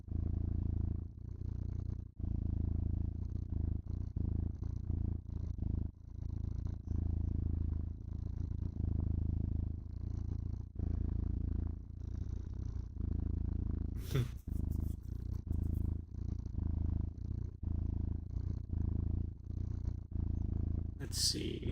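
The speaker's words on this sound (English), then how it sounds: "I like the purrs too. That's why I played them all." A recorded cat's purr played back on a live stream, a steady low rumbling purr with a rhythmic in-and-out pulse that continues close and even throughout, with a brief high crackle partway through.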